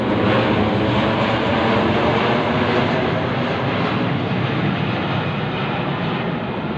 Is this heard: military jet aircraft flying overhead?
yes